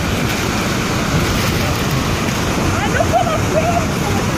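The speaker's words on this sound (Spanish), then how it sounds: "El agua está pegando." Water from a Canadian waterfall crashes and splashes right up close, a loud, steady roar of spray that fills the whole moment with no break.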